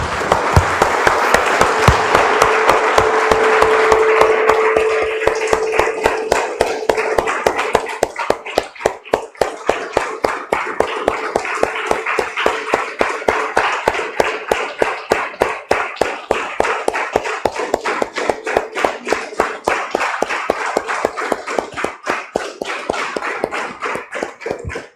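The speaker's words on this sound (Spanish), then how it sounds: "Damos un aplauso, hermanos, al Señor." Church congregation clapping together in a steady, rhythmic beat that carries on for a long stretch, loud and close, with a sustained tone audible at the start.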